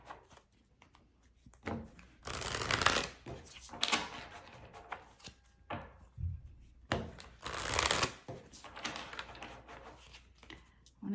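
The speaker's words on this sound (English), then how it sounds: "I want to give it kind of a good shuffle." Tarot cards shuffled by hand in two bursts of rapid riffling and flicking, close and moderately loud, with softer card handling and faint talk in between.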